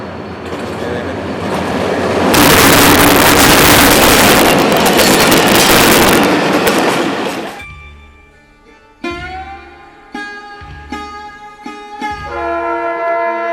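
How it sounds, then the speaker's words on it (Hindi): A train passes very close to houses lining the railway track between Landhi Junction and Keamari station, rising to a loud, sustained roar for several seconds, then fading into quieter rumbling with tonal squeals and horn-like notes. "अब देखिए ट्रेन आ रही है आपके घर के बिल्कुल पास से गुजरेगी"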